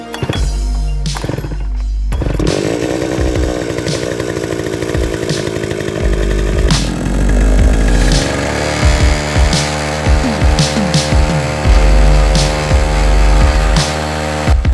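A 63cc petrol mini weeder is pull-started, with a few sharp tugs and thumps before the two-stroke engine catches and settles into a steady, loud buzzing idle that revs and wavers, heard up close with no talk.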